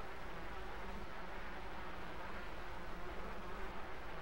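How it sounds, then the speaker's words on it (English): A dense swarm of bees drones steadily in the side-scrolling game Limbo, a thick, continuous buzzing that fills the whole stretch at an even, moderate level with no voices over it. "Bees!"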